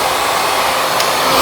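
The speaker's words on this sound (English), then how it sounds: "I'm just blow drying my hair here." Hair dryer on its cool setting blowing steadily on someone's hair, a close, continuous loud whoosh of airflow with no talking.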